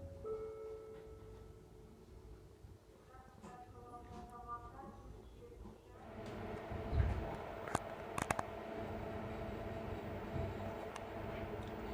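A passenger train rolls through Shu station in Kazakhstan, heard from inside a carriage as a low rumble with brief tonal squeals, then louder clattering and a few sharp knocks, and faint voices at moments.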